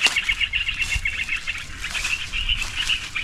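Birds call repeatedly outdoors, a run of sharp, bright chirping notes in quick succession over a low rumbling background, fairly close and loud throughout.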